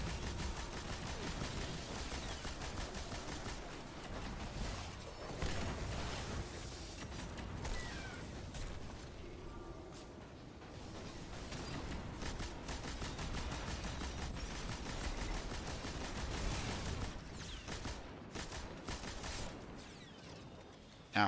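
Enemy gunfire crackles through a Destiny 2 firefight, with repeated shots and bursts of varying distance layered over dense game ambience and effects for the whole stretch.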